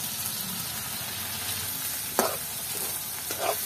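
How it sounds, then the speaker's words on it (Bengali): Onion and shrimp fry in a pan with salt, giving an even, close, continuous sizzle broken by a couple of sharp clicks and scrapes from stirring. No voices are heard. "এখন আমরা পেঁয়াজটাকে ভেজে নিব"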